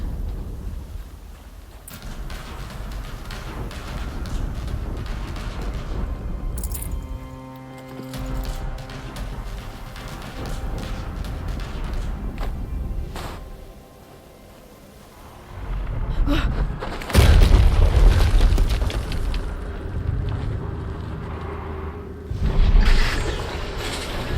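Explosions and mechanical rumbling in the video game Horizon Zero Dawn Remastered: creaking machinery and low booms, with a heavy blast surging loud partway through and another hit near the end.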